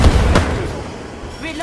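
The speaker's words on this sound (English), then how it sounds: "Frag out!" Frag grenade exploding in the video game Apex Legends, one sharp booming burst near the start that decays into a rumbling tail.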